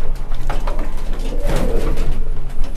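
Pigeon being handled at a farm selling fancy breeds such as Sherazi, Kaldom, racers and Giribaz, cooing in a soft, steady low murmur close by, continuous throughout with faint background noise.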